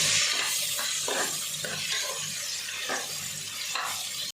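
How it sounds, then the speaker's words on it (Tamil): Two medium onions frying with cardamom, star anise and cloves in a pan for Chettinad country chicken gravy, a steady close sizzle with repeated scraping stirs throughout, no talking. "வெங்காயத்தை நல்லா வதக்கிக்கலாம்."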